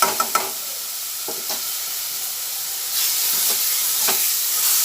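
Half a spoon of ginger paste fries in a pan for chicken ghugni, a soft sizzling hiss with a few stirring scrapes early on, swelling louder and steadier partway through.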